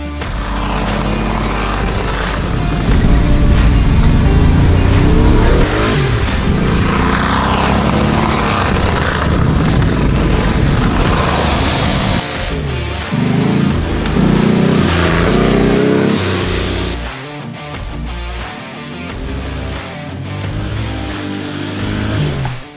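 A restored Porsche 959 drives past with a loud, sustained engine roar, rising and falling as it moves, with rushing wind and road noise throughout and a brief dip before the engine note picks up again.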